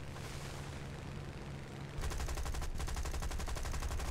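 Spitfire Mk.I guns in War Thunder open up after a stretch of engine drone, a rapid continuous burst of close, loud automatic fire over the engine.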